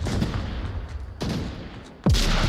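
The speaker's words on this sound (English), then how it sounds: "Oh, grenade! Good grenade by War." A grenade explodes during a competitive Onward VR match: two sharp, loud blasts about a second apart, each followed by a rumbling tail, with no voices over them.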